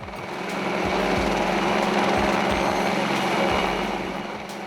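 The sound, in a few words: Helimatic Uppercut helicopter aerial saw trimming branches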